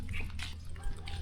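A dog barking and yipping close by in a rural home in San Mateo, Isabela, with short sharp bursts over a low background hum.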